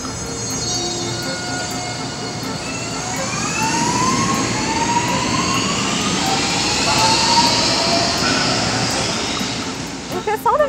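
A CPTM commuter train in Brazil, bound for Engenheiro Goulart, runs steadily with a loud rumble. Rising motor whines climb in pitch as it accelerates, and a brief clatter comes at the end.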